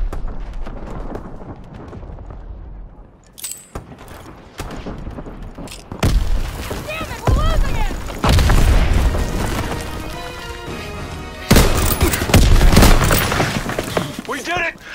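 Explosions of an ammo supply in a war video game: repeated heavy booms and crackling, shattering blasts over about fifteen seconds, loud and close, with bursts of debris and gunfire-like rattles between the main detonations.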